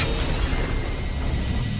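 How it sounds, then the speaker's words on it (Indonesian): A loud, sustained crash of a glass roof shattering from a gunshot, dense and noisy for nearly two seconds before cutting off abruptly. "tembakan tersebut meleset dan justru malah mengenai atap kaca"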